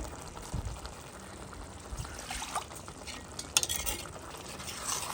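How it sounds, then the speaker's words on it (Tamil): A little salt water is poured into curry in a pot, a brief close splash followed by stirring and light scraping, with soft bumps and clinks of a spoon in the pan. "உப்பு தண்ணி கொஞ்சம் ஊற்றிடுவேன் நிறையா ஊற்ற வேணாம் கொஞ்சமாக"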